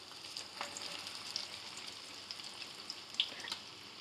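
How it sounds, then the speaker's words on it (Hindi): Irani kebabs frying in oil give a soft, steady sizzle with faint crackles and a few sharper pops near the end, quiet and without talk. "कबाब हमारे बहुत ही मज़े के फ्राई हो चुके हैं।"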